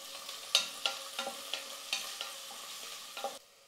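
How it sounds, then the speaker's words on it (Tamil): Onions sautéing in a pan for a potato and pea kurma, with soft sizzling broken by a steady series of sharp clinks and scrapes as a spoon stirs them, close and moderately quiet. "வெங்காயம் வந்து கொஞ்சம் நல்லா வதங்கணும்."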